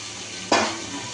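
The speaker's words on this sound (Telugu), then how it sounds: "ఉల్లిగడ్డలు వేగాక మనం కలిపి పెట్టుకున్న చికెను ఇలా వేసేసేయాలా" Chicken tipped into a pan of fried onions sets off a sudden loud sizzle that swells and then settles into a steady hiss, with no voices.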